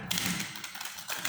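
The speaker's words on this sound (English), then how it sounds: "let me shuffle a bit more before I cut the deck" Tarot cards are shuffled by hand close up, making a soft papery riffle and light tapping with no talk.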